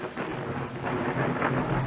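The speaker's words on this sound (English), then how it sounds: "Was that an RNG lightning strike that struck my character?" Storm ambience in the storm-chasing video game Outbrk, with heavy steady rain and a rolling thunder rumble that swells in the second half, loud and continuous with no talk.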